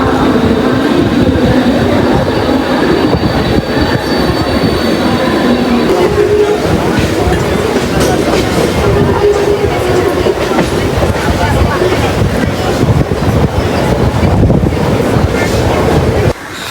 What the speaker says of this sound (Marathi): जेव्हा ट्रेन पकडली, जेव्हा ट्रेन सुरू झाली ना